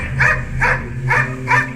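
A dog named Jackie barks four times at a steady pace, each bark loud and close, with a low background hum between them.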